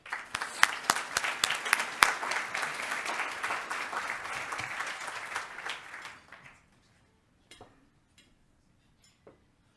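Audience applause welcoming Richard Nesbitt to the podium at the GRI Summit 2018, a loud, dense burst of clapping from a seated crowd lasting about six seconds before tapering to a few scattered claps.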